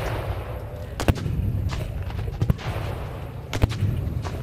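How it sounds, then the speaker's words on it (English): Civil War reenactment cannons firing at Gettysburg, several distant booms and sharp reports scattered over a constant outdoor rumble, heard from far off with no clear talk. "Two signal guns go off in succession, and that is the indication for the bombardment to begin."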